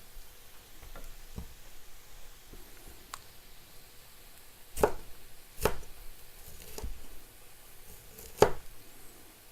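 A knife chopping food on a cutting board, with a scattering of soft taps followed by several sharp, well-spaced chops that stand out clearly against a quiet background.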